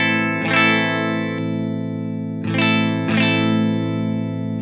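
A Les Paul electric guitar in 60s wiring mode with both pickups selected rings out a sustained, effected chord, then two more strummed chords sound near the end, each followed by a long decay.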